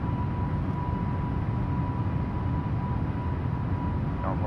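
A steady, loud drone of A320neo engines fills the air as the jet climbs after takeoff in Microsoft Flight Simulator, a continuous roar with a faint thin whine running through it and no talking.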